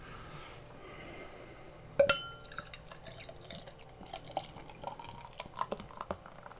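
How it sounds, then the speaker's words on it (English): Corona Non-Alcoholic beer opened and poured into a glass, with a sharp crack followed by irregular trickling, dripping and fizzing liquid sounds close by in a quiet room. "I didn't get nervous about overpouring and actually poured a really nice pour for the video"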